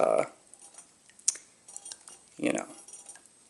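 A metal household fork clinks against an absinthe glass in a few light, close chinks, with a sharp tap near the middle and brief clattering bursts at the start and later on.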